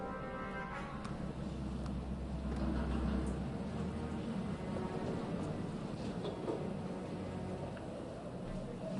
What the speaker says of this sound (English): Looks like I'll be going to Venice by train.